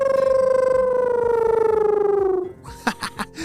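A voice imitates a creature that is half cat and half wolf, with a long, buzzing, howl-like tone that slides slowly downward. It ends after about two and a half seconds and is followed by a few short, sharp noises.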